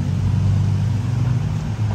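A Lamborghini or Ferrari sports car on a street in Pattaya, a loud, close, continuous low engine rumble lasting a couple of seconds without any pause.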